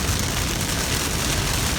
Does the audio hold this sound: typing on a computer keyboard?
no